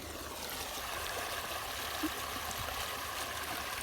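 Steady rushing and trickling of canal water flowing through an irrigation channel, continuous and fairly soft, with no voices.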